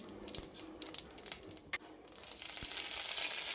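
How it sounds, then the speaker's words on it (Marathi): Fenugreek seeds frying in ghee, heard as a soft, steady sizzle with a few light clicks and scrapes that builds into a denser hiss toward the end. "मेथ्या तुपात टाकून घ्यायचा"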